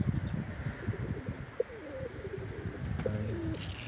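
Young racing pigeons cooing softly in a few low, rolling calls against quiet outdoor background noise.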